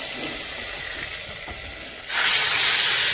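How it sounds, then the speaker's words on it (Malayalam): Jackfruit seed curry poured into a hot tempering of curry leaves in oil, a soft hiss that suddenly swells into a loud, close sizzle partway through. "നേരെ നമ്മളെ ചക്കക്കുരു വറവിലേക്ക് തട്ടിക്കൊടുക്കാം"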